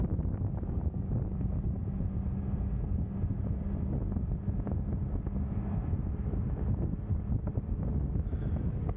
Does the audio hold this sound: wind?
yes